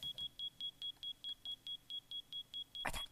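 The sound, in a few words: smoke detector alarm beeping in Minecraft video game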